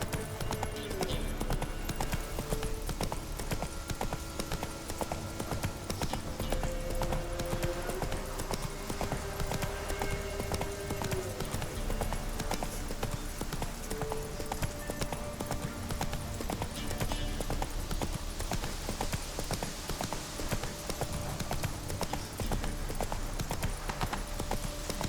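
Horse hooves clip-clop steadily in The Witcher 3: Wild Hunt Blood and Wine on PS5, a continuous rhythmic gait over layered game ambience and music at moderate level.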